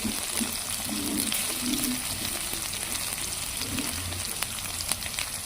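Garlic, ginger paste and tomatoes frying together in a pan for a Bengali meat curry, giving a steady close sizzle with faint crackles and no speech.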